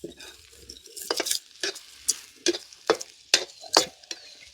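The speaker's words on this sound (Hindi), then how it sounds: "अब हम फली डाल देंगे और डाल देंगे पानी, और बढ़िया आग जल रही है।" Beans and water go into fried masala in a home-cooking pan over a strong flame, giving irregular splashes, stirring scrapes and sizzling bursts up close, with no talking.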